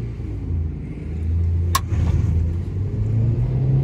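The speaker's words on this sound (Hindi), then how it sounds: "ठीक है, जो है व्हील स्पिन हुआ है। सेकंड गियर में चल रही है गाड़ी 60 की स्पीड पे, 70।" Hyundai Grand i10 Nios hatchback accelerating hard from inside the cabin: a steady, loud low engine drone builds slightly over a few seconds, with one sharp click partway through.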